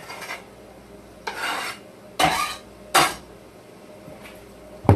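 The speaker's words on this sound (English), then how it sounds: "We're going to dump our carrots right in." Carrots go into a pan of onions and are stirred, producing several separate scraping, rasping strokes of a utensil against the pan, spaced about a second apart, close and fairly loud, with a final clatter at the end.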